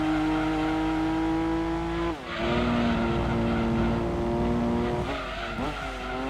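A Datsun race car engine roars continuously in the Gran Turismo 2 racing game, loud and steady with a brief dip around a gear change, then climbing again with a quick shift near the end; no talking.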